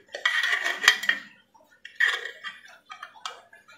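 A metal spoon clinks and scrapes against a bowl in two separate bursts while spoonfuls of sambal are added to a fish bait mix for carp fishing, heard close up with short pauses between.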